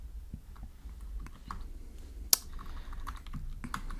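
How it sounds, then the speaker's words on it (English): Computer keyboard typing while entering Android SQLite code: soft, irregular keystrokes close by, with one sharper, louder key click near the middle and no talking. "So I'll type here contact list"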